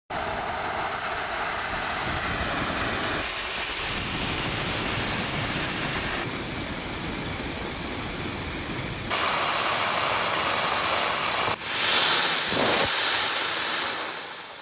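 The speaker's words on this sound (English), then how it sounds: "For the motor testing, there were a few ones that went successful." Homemade rocket motor test firing, a loud, steady roaring hiss that runs the whole time with a few abrupt shifts in intensity and a harsher burst near the end, with no talking.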